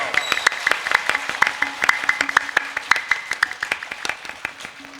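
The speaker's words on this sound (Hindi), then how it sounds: "एक बार तालियां बजाओ।" Rhythmic clapping from a gathered audience at a religious discourse, sharp claps falling in a fairly regular beat and fairly close, with a faint voice or tone sustained underneath.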